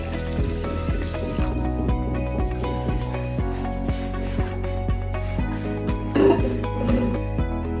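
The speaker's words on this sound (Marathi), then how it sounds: "तर आता आपण त्याच्यात पाणी टाकून ते 5-6 तासासाठी आपण भिजत ठेवूया" Water is poured onto washed rice and urad dal for soaking, a continuous filling trickle with small splashes. Steady background music plays throughout.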